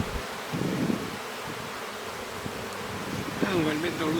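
Honey bees buzzing around an open hive in spring, a steady close hum with a louder swell of wingbeats near the start and a rising whine toward the end.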